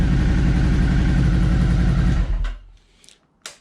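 A 2017 Suzuki SV650 motorcycle engine idles after an oil change with a steady low, throbbing rumble, then shuts off and sputters to a stop, followed by a couple of faint clicks.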